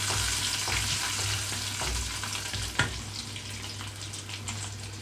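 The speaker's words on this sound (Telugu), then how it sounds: "జీడిపప్పు కూడా వేసి వేయించుకుంటున్నాను" Cashews sizzle and crackle steadily in hot tempering oil over a medium flame, with a few louder pops and stirring clinks.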